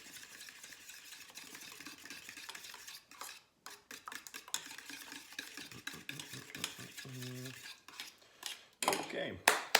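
Cream being whisked for gratin dauphinois, a steady scraping and clinking of the whisk against the bowl that runs through most of the stretch, briefly broken by pauses and a louder clatter near the end, with no talk.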